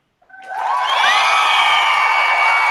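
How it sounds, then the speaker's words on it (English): An audience bursts into applause and cheering, swelling within half a second to a loud, dense, sustained roar of clapping and whoops. "That glorious, glorious applause."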